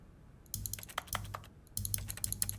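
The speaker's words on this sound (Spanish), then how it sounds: "sé que suena un teclado ahí" Computer keyboard typing from The Stanley Parable Ultra Deluxe, two bursts of quick, clicky keystrokes close up, separated by a short pause, with no talk.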